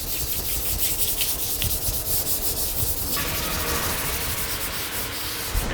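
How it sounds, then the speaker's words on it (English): A fingertip rubs back and forth across a rough sanded guitar finish in preparation for clear coat, giving a close, continuous scratchy rasping with rhythmic strokes and no talking. "you can hear how rough that my finger is going across it"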